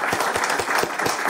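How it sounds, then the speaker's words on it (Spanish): Audience applause at a village gathering in Riosa, Asturias, a short, loud, close burst of rhythmic clapping with distinct hand claps audible in the mix. "un aplauso fuerte para ti y para este guaje"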